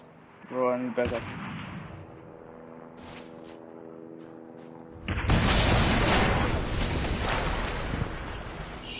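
Gunfire in the video game COD Mobile: a burst of sharp reports near the start, then a long, loud stretch of continuous rapid firing, with a voice talking early on.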